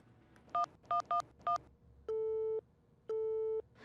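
Four quick dialing tones are followed by two long, evenly spaced beeps of a telephone busy signal, clear and close.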